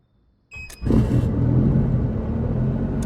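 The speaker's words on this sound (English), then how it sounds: "Let's start the engine and avionics to see it running." In the Microsoft Flight Simulator video game, an aircraft engine starts: a brief click and whine, then a loud, steady rumbling drone that settles and runs on without voices.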